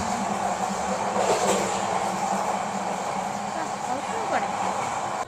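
Passenger train on the Dhaka to Cox's Bazar route, a steady loud rumble of rolling wheels and carriage noise throughout, with faint voices in the background.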